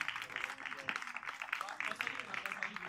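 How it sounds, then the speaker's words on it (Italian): Audience applause for the cast after a theatre recital, a soft, steady patter of clapping heard at a moderate distance while a voice talks over it. "Un altro applauso per loro"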